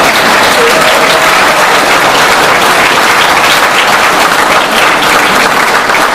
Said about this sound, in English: let's give Western Carolina University a big round of applause for making this happen